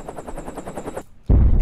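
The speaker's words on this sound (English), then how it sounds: "Explosions." A deep, heavy explosion roars in suddenly and loudly as part of a noisy sample, cutting in after a stretch of rapid, rattling bursts and a brief near-silent gap.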